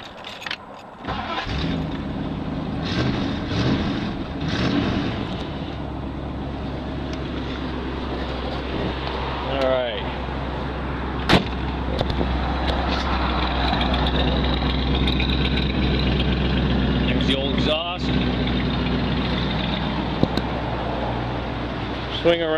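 A 1961 Ford Thunderbird engine starts up and settles into a steady, low idling rumble, with people talking nearby over the engine.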